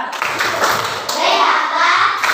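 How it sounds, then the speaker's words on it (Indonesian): A school class claps for a classmate, a short dense patter of hand claps filling the room, with children's voices mixed in. "Beri tepuk tangan buat Tiandra"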